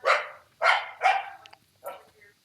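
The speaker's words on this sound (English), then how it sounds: "She's a very excited puppy." An excited puppy barks close by in four sharp, bright bursts, three quick ones then a pause before a fourth, with a faint yip trailing off and no talking.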